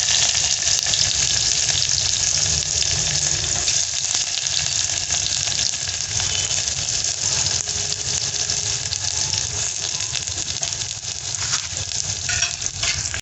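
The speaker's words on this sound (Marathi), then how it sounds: "लसूण थोडासा चांगला लाल रंगावर परतला की कांदा टाकून घ्यायचा" Garlic and onion fry in a tempering of cumin and mustard seeds, giving a loud, constant sizzle that holds steady throughout with faint stirring underneath.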